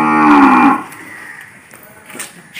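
A cow on a clean cattle farm gives one loud, close, drawn-out moo that fades after under a second, followed by faint barn noises.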